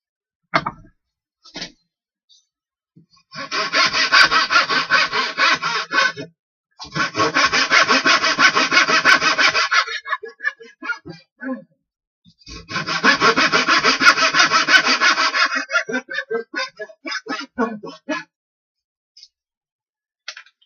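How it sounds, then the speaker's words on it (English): Wood being sawn in cross cuts for a DIY windmill build: three long, loud bursts of back-and-forth rasping strokes, separated by short pauses and a few light knocks and taps. "or we make some cross cuts"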